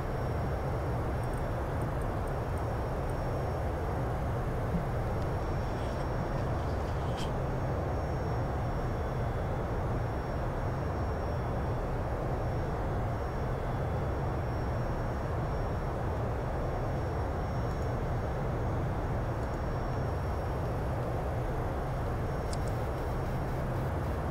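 Boeing 757 jet engines run at throttle in the X-Plane 11 flight simulator, a steady broadband roar that stays constant and moderately loud throughout with no talking.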